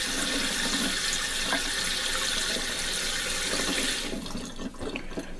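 Water pours steadily into a coiled basketry vessel and spills over its rim, a loud, continuous rushing splash that thins out and turns more uneven near the end.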